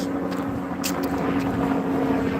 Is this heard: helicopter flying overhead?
yes